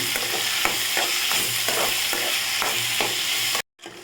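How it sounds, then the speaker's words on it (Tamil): Onions and tomatoes sauté in a pan for village-style chicken sukka, giving a loud, steady sizzle with repeated stirring scrapes before the sound cuts off abruptly near the end. "இப்போ நம்ம தக்காளி பழம் வச்சுருந்தாலும் அதை சேர்த்துக்கலாம் சேர்த்து நல்லா வதக்கிக்கலாம்"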